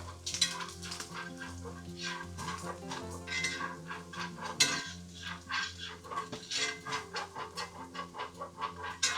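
A flour roux is stirred into sausage grease in a pan for country sausage gravy, with a steady soft sizzle and repeated scraping strokes of a utensil against the pan, continuous and close throughout.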